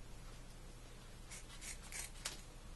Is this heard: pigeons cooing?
no